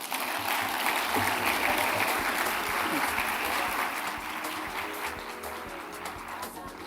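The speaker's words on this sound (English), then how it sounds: "Keep the applause going until he takes his seat," Sustained audience applause at the closing ceremony of the UN World Data Forum in Riyadh, dense and loud at first, then gradually thinning and softening toward the end with faint voices mixed in.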